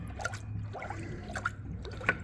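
Antifreeze glugs and drips while being poured back into the cooling system of a 2007 Jeep with a 3.7 engine, with soft irregular splashes and bubbling over a low background hum, close and fairly quiet.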